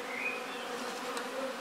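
A steady, dense drone of honey bees buzzing around a hive set up for Snelgrove swarm control, many wings humming together continuously and close by, with no talking.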